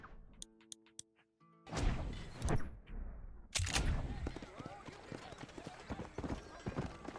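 Hooves clip-clop and thud in a quick galloping rhythm, close and fairly loud, with game-like sound effects and bursts of noise around them, from the video game Red Dead Redemption.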